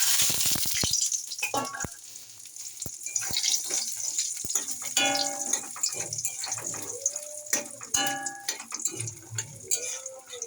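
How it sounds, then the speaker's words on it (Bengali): Dried pea-lentil vadis fry in oil in a kadai, bubbling and crackling with clinks from a utensil and a few scattered knocks, moderately close. "কড়াতে তেল দিয়ে বড়িটা ভেজে নেবো"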